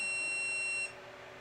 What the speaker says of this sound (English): The machine makes that beep every time I send a print to it.